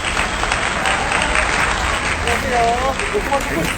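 A crowd at a night food market in Korea breaks into dense, steady applause that fills the whole clip, with voices mixed into the clapping.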